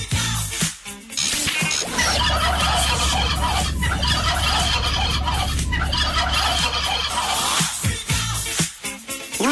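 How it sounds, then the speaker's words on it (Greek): A flock of turkeys gobbles in a dense, loud, continuous chorus over a low steady drone, with brief quieter moments at the start and end. "νάτες και οι γαλοπούλες μας"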